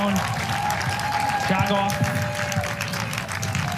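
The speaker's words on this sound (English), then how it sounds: "Some applause from the crowd" Crowd applause at a college women's soccer match between Pitt and Florida State, scattered clapping from the stands under an announcer talking over it, moderately loud.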